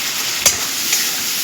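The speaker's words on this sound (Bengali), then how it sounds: "মশলাটা দেওয়ার পর আমি এর মিডিয়াম আঁচে দিয়ে মশলাটাকে কষাতে থাকবো।" Spice masala is stir-fried with fried potatoes in a pan over medium heat, giving a close, steady sizzle with a couple of brief spatula scrapes.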